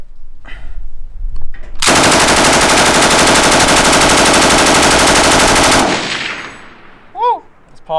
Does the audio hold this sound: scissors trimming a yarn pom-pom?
no